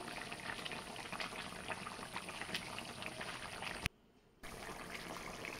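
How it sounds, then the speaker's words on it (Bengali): A light fish curry with ridge gourd and potato simmers in a pot, giving a steady close bubbling and gurgling that briefly drops out before it resumes. "মাছগুলো দিয়ে আমি কিছুক্ষণ ফুটিয়ে নেব।"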